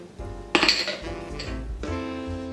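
Ice cubes are dropped into a container while an eggnog shake is made, giving a sharp clattering clink followed by a few lighter knocks and a ringing rattle.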